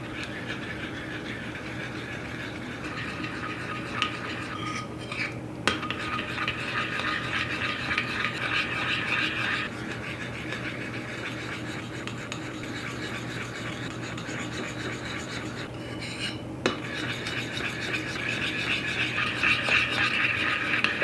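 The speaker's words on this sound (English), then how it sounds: "let that heat melt your chocolate and just start stirring" Chocolate melting in a bowl over heat is stirred steadily, giving a soft, continuous scraping and rubbing that runs for the whole stretch at moderate level, with a couple of brief knocks.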